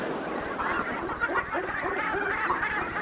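Geese at a crowded breeding colony honk continuously, many overlapping nasal calls at moderate distance forming a dense, busy chorus with no talking.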